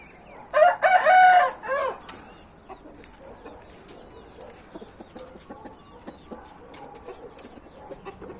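A rooster crows loudly and close at the start, a long strained call, followed by scattered clucks and soft fowl chatter from a group of hens in a farmyard.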